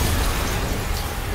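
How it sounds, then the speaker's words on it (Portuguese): Rumbling explosion burst in the PS4 game Marvel's Spider-Man, a dense, loud low boom that holds steady and rolls on for over a second with no voices. "Yuri, uma explosão."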